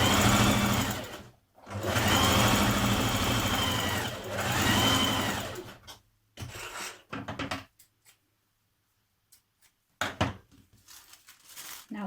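Home sewing machine basting the edges of folded interfacing for lounge trousers: a loud, close, rapid run of stitching for several seconds, then shorter stop-start bursts with quiet gaps between them.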